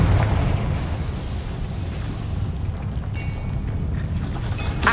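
A Confringo fire spell explosion in Hogwarts Legacy bursts out as a loud, dense boom at the start, then leaves a sustained rumbling roar that holds steady for several seconds without talk.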